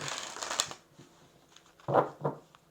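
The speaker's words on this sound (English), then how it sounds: "I think I'm gonna do 2 more shuffles" Brisk rustling and riffling of tarot cards being shuffled, a few short bursts close by with quiet pauses between.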